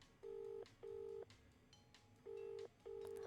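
Telephone keypad dialing in the Escape from Ever After video game: four evenly paced touch-tone beeps, each roughly half a second long, clear and close over a quiet background with no voices.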